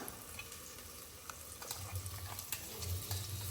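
Ginger garlic paste frying in a pan after tomatoes have been sautéed, giving a low, steady sizzle with occasional soft stirring scrapes that grow a little louder toward the end; no one speaks.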